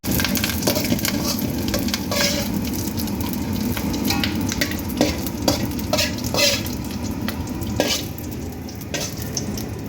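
Cashews frying in ghee for a puffed rice snack mixture, with a steady dense sizzle and crackle under repeated scraping and stirring strokes in the pan, loud and close throughout.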